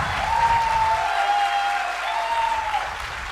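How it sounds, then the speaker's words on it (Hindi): Sustained applause from a training seminar audience, steady and fairly loud for about three seconds, with a thin wavering whistle-like tone running through it. "तालियां बहुत कम है"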